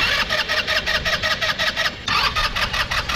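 An Italika DS-150 motorcycle with no spark cranks repeatedly without catching, a fast rhythmic chugging of the starter that pauses briefly and then resumes, loud and close.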